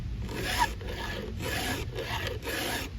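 A hand file rasps steadily across a Stihl 500i chainsaw chain during sharpening, close and continuous with repeated strokes and brief pauses between them.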